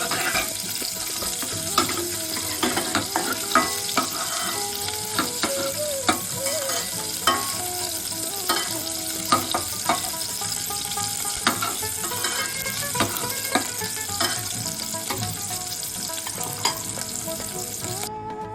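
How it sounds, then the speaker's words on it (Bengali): Cauliflower fries golden in oil, a continuous loud sizzle broken by frequent sharp scrapes and taps of stirring against the pan. "এদিকে ফুলকপিটা আমার সোনালি রং করে ভাজা"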